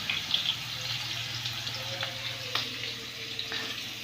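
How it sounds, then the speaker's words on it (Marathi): Onion and curry leaves fry in a pan with a soft, steady sizzle, faint and close, broken by a few light clinks. "तर असं मी कांदा घातला ह्याच्यामध्ये भाजतोय छान असा."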